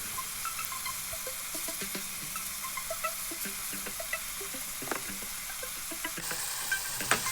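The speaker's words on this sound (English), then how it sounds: "let the cabbage cook until soft" Cabbage sizzles in a pan with a soft steady hiss, broken by scattered clicks and scrapes of stirring, with no voices over it.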